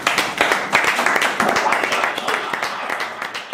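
Applause rings out in a hall as a chemical engineering doctorate is conferred at a PhD thesis defence at the University of Abomey-Calavi, with dense, steady clapping over a murmur of voices throughout.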